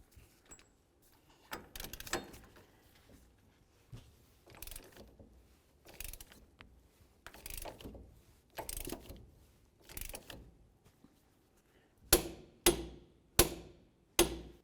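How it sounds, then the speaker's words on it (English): Ratchet wrench with a 36mm socket tightening the axle nut on a 2002-2006 Honda CR-V during hub and bearing replacement: a series of separate clicking pulls with pauses between them, and sharper, louder strokes near the end. "Now I can use my 36mm socket. We'll torque this to 181 foot-pounds."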